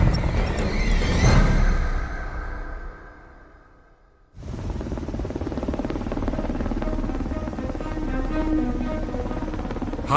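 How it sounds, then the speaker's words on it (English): A US Air Force Pave Hawk helicopter's rotor roar fades out to near silence, then abruptly returns loud and steady with heavy whooshing engine noise. "a US Air Force Pave Hawk helicopter is low on gas."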